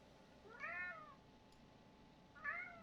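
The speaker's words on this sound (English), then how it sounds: "He just wants to meow." A cat meows twice, each a drawn-out call, with a pause between them, fairly faint against a quiet background.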